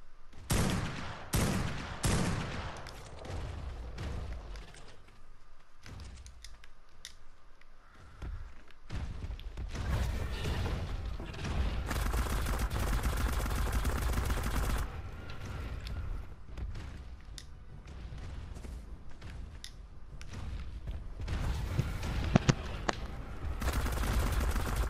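Video game gunfire in a 2 vs 2 PvP match from the game Rebirth, dense bursts of rapid automatic shots and heavy fusillades coming close and loud, with short pauses between volleys and footsteps in the gaps.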